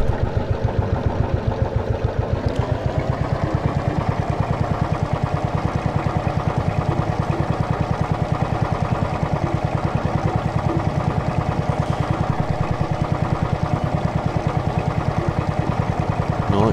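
A tractor engine idles steadily in the farm game Farm Mechanic Simulator 2015, a low, even mechanical rumble held loud and constant throughout with no talk over it.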